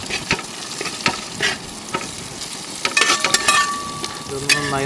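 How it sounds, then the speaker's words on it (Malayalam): Curry leaves stirred and fried in a pan with green chillies and onion for a mutton dish, crackling sizzle under repeated scraping strokes of a spoon, with a few sharp clinks and a brief tonal squeak near the end. "ഇനി കറിവേപ്പില ഇതിക്കിടാം നന്നായി ഇളക്കി കൊടുക്കാം"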